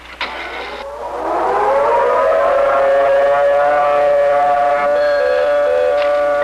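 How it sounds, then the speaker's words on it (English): A civil defense siren winds up and holds a loud, steady wailing tone, with a brief high whine at the start, sounding a tornado warning in Xenia, Ohio, April 1974. "we think the Siren should be activated at the present time"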